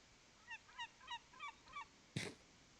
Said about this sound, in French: la mouette. Elle s'envole.